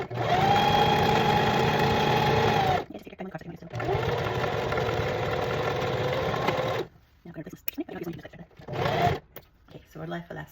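A sewing machine stitches a seam on a small gown, running in long steady bursts with a brief stop, then fading into scattered handling noises and short runs near the end.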